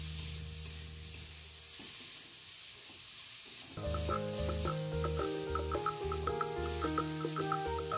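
Soaked red lentils being stirred into frying onion masala in a pan, a soft sizzle with scraping strokes, joined midway by steady musical tones over the frying.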